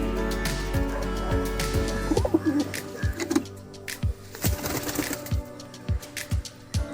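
Pigeons cooing at close range in a home loft, soft rhythmic coos and chirps repeating over a low steady hum.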